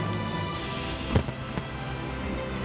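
Fireworks burst over water at a celebration of Macao's 20th return anniversary, launched from barges and special-effects platforms, giving a few distant thuds and crackles over a continuous crowd-like rumble.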